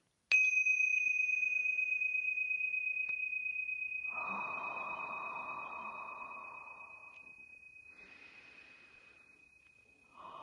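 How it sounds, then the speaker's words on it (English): Tingsha bells struck together once, giving a bright, piercing high ring that hangs and slowly fades over about ten seconds, with a soft rustle partway through and a fresh strike right at the end. "I'm going to ring the tingsha bells to clear out any lower vibrations"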